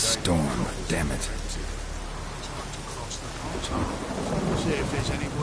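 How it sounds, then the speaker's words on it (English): Thunderstorm with rain in The Witcher 3: Wild Hunt on PS4, a loud rolling thunder crack at the start over a steady rain hiss, with a brief voice and faint rumbles continuing beneath. "The storm, damn it."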